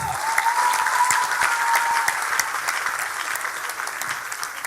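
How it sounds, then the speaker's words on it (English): An audience at an education summit and scholarship awards ceremony gives a warm round of applause for the Bridge Leadership Foundation, steady clapping that slowly tapers. "I think that yes warrants another round of applause"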